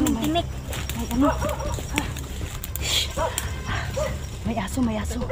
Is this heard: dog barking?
yes